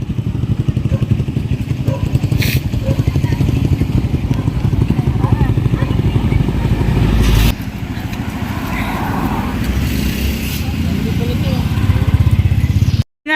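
A malfunctioning motorcycle engine runs steadily with a rough, rattling putter, close by, dipping briefly midway before picking back up, with voices faintly in the background.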